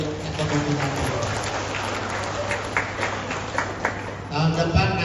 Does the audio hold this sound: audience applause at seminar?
yes